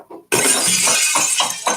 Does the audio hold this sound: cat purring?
no